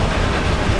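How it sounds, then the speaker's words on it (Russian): A train rumbles past in the racing game Forza Horizon 2, a steady, loud, dense low roar of rail cars that stays constant throughout the short moment with no other sounds standing out. "Поезд!"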